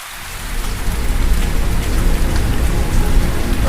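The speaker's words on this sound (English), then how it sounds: "It should be a rain loop, okay. And rain of thunder." A rain and thunder sound loop playing in FL Studio: steady heavy rainfall hiss with a low rumbling thunder bed, rising slightly in loudness and continuous throughout.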